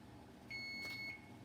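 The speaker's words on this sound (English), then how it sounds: "Okay, my timer's fixing to go off." A kitchen timer gives a single short, thin electronic beep at moderate distance, heard alone over a quiet room hum.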